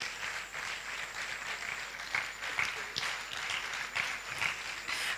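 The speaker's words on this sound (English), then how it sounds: "A round of applause for her." Conference audience applauding someone speaker, a steady wash of clapping held at moderate distance for several seconds without any spoken voices.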